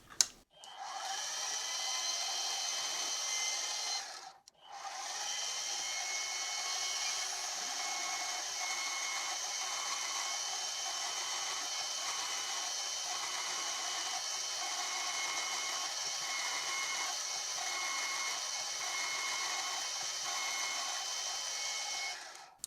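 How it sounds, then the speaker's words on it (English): A steady high-pitched whine of a drill boring a 5mm hole in metal, running continuously for a long stretch with one brief pause near the start. "this drill is a good quality one"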